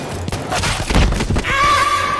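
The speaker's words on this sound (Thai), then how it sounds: "ปืนนากอง รีวเวอร์ปืนลูกโม่ที่มีขนาดไซส์เล็กที่สุดในเกม แถมยิงได้เร็ว" A Nagant revolver fires in a World War I shooter game: loud, close sharp reports in quick succession over a dense battlefield din, with distant booms and a horse whinnying near the end.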